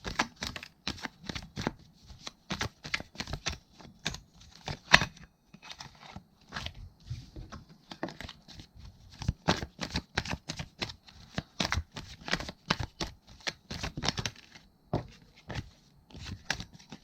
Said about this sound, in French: Je ne sais plus mélanger mes cartes